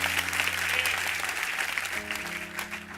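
A church congregation applauds during a sermon, a steady moderate wash of clapping with sustained tones and a voice faintly underneath.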